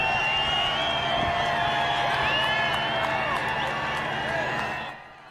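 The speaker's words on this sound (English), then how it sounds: "the crowd is yelling a little bit" A large crowd at the Kentucky Derby horse race yells and cheers as a dense, steady wall of distant voices, which fades out at the end.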